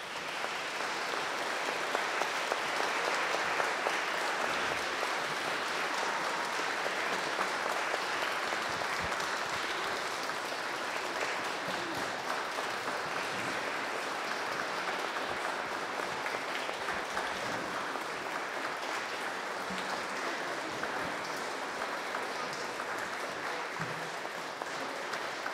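Sustained applause from a church audience after a Stations of the Cross performance, dense and even clapping that carries on without a break for the full stretch.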